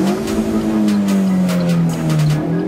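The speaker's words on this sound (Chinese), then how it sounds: "听着厂方刻意加大引擎进气系统所发出的排气声" Alfa Romeo Giulietta 1.8 QV accelerating on a mountain road, its engine exhaust a loud, close, rising drone with a steady tonal note that sweeps through the revs, broken by faint rhythmic clicks.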